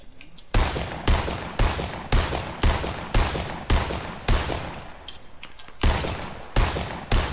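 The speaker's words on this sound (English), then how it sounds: "Shots to our south." Sniper and rifle gunshots in a video game, a series of around ten loud, sharp shots at irregular intervals of roughly half a second to a second, each decaying quickly, with no talking.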